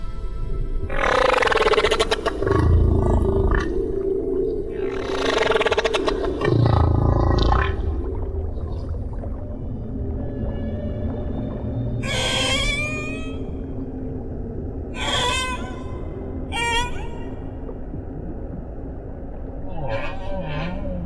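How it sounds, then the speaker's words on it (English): Humpback whale song: long, low moans and groans mixed with rising whoops and squeals, echoing over a constant deep underwater rumble. "humpbacks have been singing their extraordinary, complex songs for millions of years."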